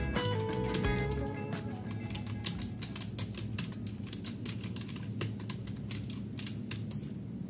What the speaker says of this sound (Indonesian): Ini kalau saya coba ngetik di sini,